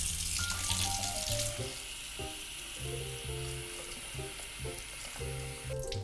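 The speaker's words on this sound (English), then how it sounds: "And then to cool these down, I'm gonna add in some cold water." Cold water from a tap pours steadily into a bowl of skinned chickpeas, a bright continuous splashing hiss close up, with a faint tonal pattern sounding underneath.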